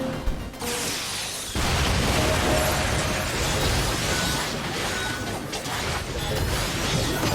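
A loud, sustained explosion with a crashing burst, heavy rumble and debris in the action game NieR:Automata, filling the whole moment in a dense wall of noise that holds steady for several seconds.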